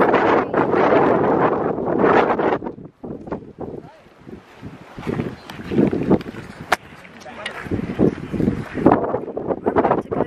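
Gusty, cold wind buffets the microphone in heavy bursts outside the Biltmore gardens, with people talking intermittently underneath and occasional rustling in between.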